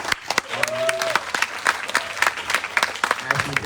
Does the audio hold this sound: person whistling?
no